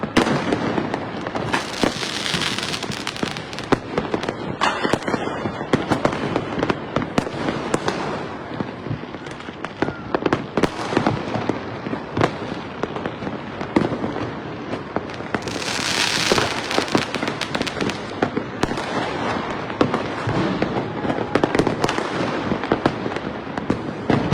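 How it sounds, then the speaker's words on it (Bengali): Fireworks and firecrackers burst over the capital on New Year's night, a dense, loud, continuous barrage of pops, bangs and crackles that carries on for the whole stretch, with some louder swells of explosions. "আকাশে ব্যাপক পরিসরে কিন্তু ফোটানো হচ্ছে আতশবাজি এবং ফানুস, সেই সাথে কিন্তু ব্যাপক শব্দে কাঁপছে রাজধানীর আকাশ।"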